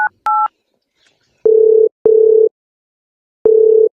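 Telephone keypad tones sound as a number is dialed: two short high beeps, then three clean, evenly spaced lower tones, each isolated against silence.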